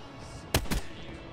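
Two sharp sniper rifle shots in Call of Duty Black Ops 3, close and loud, fired in quick succession over a low background hum.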